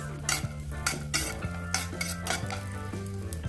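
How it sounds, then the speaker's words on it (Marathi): Cashews and almonds being dry-roasted and stirred in a pan, with a steady rattling scrape of a spoon and nuts moving over a continuous hum, repeated strokes roughly every half second, close and fairly loud, no talking. "काजू बदाम थोडेसे भाजून घ्यावे"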